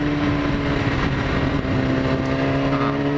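A BMW motorcycle at full throttle holds a loud, steady engine drone with strong tonal harmonics, then briefly dips midway as the transmission downshifts automatically before pulling hard again.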